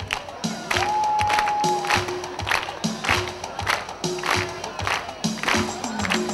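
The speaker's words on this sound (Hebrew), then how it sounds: "יאללה, כפיים" An audience claps hands in a steady rhythm along with a live song, with sharp beats repeating evenly over the music.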